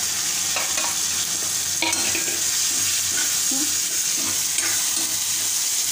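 Onions and tomato fry in a pan for a kochu flower bhaji, a loud, steady close sizzle broken by repeated scraping stirs of a spatula against the pan.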